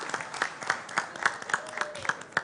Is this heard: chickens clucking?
no